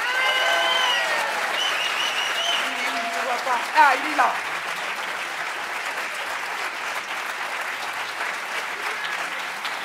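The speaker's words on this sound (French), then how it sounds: "s'il vous plaît, d'applaudir notre parrain, Bruno Sanchez!" An audience at an evening apprentice performance event applauds a guest of honour, steady clapping that carries on through the clip while someone speaks briefly over it.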